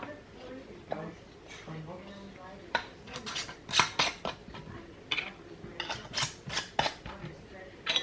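Metal lids and rings clink and scrape onto glass canning jars on a country kitchen counter, a run of sharp close taps and rattles while someone talks over the first part.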